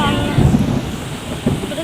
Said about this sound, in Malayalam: ഇപ്പം അതവിടെ വെള്ളം നല്ല മഴയുണ്ട് കേട്ടോ